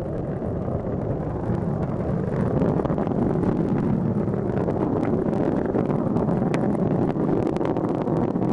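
Space Shuttle Atlantis's three liquid-fuel main engines roar through launch ascent while throttled back to 72 percent, a steady, broad, wind-buffeted rumble heard from a distance with no speech over it.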